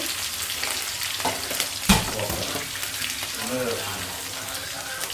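Vegetables sizzle steadily in a pan while ginger and curry leaves are stirred for Andhra-style upma, with a sharp utensil knock and a voice talking over the frying.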